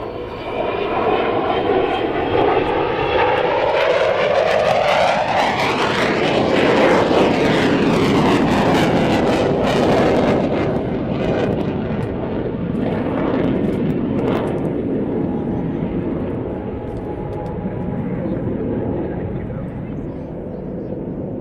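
An airplane comes in to land on runway 20 at night, its engine roar swelling loud with a sweeping pitch shift as it passes, then easing into a lower rumble while voices talk and cheer underneath.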